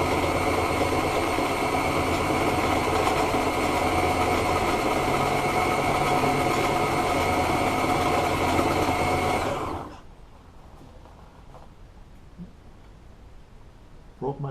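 A sewing machine stitches boat cushion upholstery for a Hydra Sport front cushion with a steady loud mechanical whir that stops abruptly about two-thirds through, leaving quiet room noise and small clicks.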